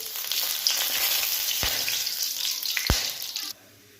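Whole cumin, dried chilli, cinnamon, cardamom and cloves sizzle steadily in hot oil for a Bengali cholar dal, with a couple of sharp clinks of a spoon before the frying cuts off abruptly.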